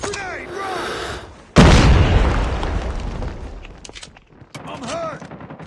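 A grenade explosion in Call of Duty lands as a sudden loud blast, then a long decaying rumble mixed with scattered gunfire, while soldiers shout over the combat before and after it.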